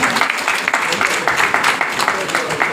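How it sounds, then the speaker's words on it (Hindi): Audience applause at the annual ceremony of the Amar Jyoti cooperative urban thrift and credit society, a dense, steady crowd clapping that holds loud throughout, with some voices mixed in. "तालियां बजनी चाहिए।"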